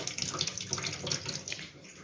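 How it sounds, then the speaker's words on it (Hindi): Water pours steadily from a kitchen tap onto a dish holding leftover potato-spinach curry, a continuous close splashing hiss with no voices. "इस पर मैं पानी डाल दूँ थोड़ी देर"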